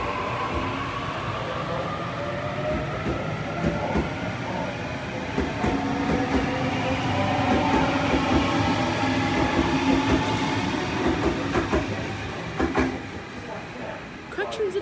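A City via Granville suburban train pulls out of Warwick Farm station, its broad rumbling roar and clattering wheels swelling steadily through the middle and easing off near the end, with faint voices now and then.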